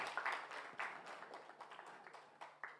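Scattered clapping from an audience at a university mathematics quiz competition final in Jamaica, greeting the scorekeepers; irregular moderate claps over a low hum, with no talk.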